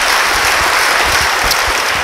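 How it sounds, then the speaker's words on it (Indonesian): Loud, sustained applause from a church congregation during a sermon, dense continuous clapping close by with no pause. "Beri tepuk tangan bagi Dia."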